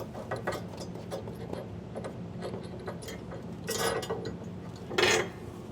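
Large top bolts are loosened on a B&W Companion sliding fifth wheel hitch in a 2023 Ford pickup bed, giving faint, steady ratcheting ticks with a couple of louder metallic clanks.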